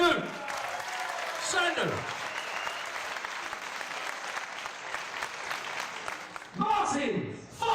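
An audience applauds a referee at a Ground & Pound event. The clapping is steady and dense throughout, with a voice speaking over it and a brief swell near the end.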